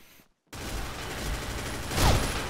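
A 12 Biohazard shotgun fires during a video game round, the sharp blast following a brief silence and then sitting over a dense, busy backdrop of game noise, with a louder burst near the end.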